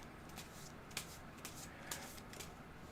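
A deck of cards being shuffled at a tabletop game session, a quiet papery riffle with a few soft snapping peaks, faint and close, with no talking.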